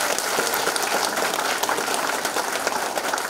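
A crowd at a county-head candidate's campaign office opening in Jindo, South Korea, claps in a steady, moderately loud wash of applause with no pause.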